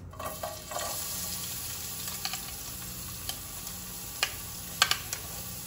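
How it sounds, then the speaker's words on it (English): Onions hit a couple of tablespoons of hot oil left from frying fish for a stew, giving a faint, steady sizzle broken by scattered sharp crackles and pops. "I have here like about 2 tablespoons of the same oil that I fried the fish in, and to this I'm gonna add the onions."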